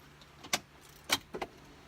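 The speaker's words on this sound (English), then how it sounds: "key goes back and comes out" On a 2013 Ford Expedition, an ignition key slides back and pulls out of the lock, giving a few short, close metallic clicks and jingles in a quiet cabin.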